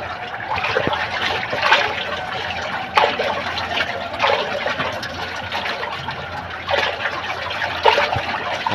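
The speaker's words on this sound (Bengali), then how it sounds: "পানিটা ঘুরাই দে" Water swirling in a tank as it is stirred with a poultry vaccine mixed in, a steady trickling, sloshing wash with a few louder surges, close by, with no talk.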